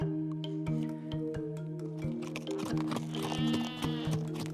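Sheep bleating in a farm setting, several wavering bleats at moderate level over a steady tonal background, with a higher bleat toward the end.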